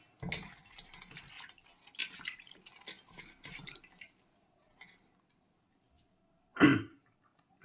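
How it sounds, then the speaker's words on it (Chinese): Tap water rinsing a home-grown orange under a faucet, heard as close, uneven splashing and trickling for several seconds, then scattered drips, a pause and one short louder splash. "再用水冲一冲"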